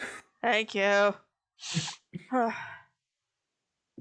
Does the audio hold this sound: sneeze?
yes